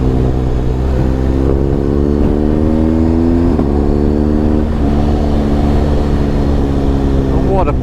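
A big motorcycle engine pulls steadily while riding through the hills of Dumfries and Galloway, a loud continuous drone with rising and falling pitch as the revs shift, with wind rush throughout.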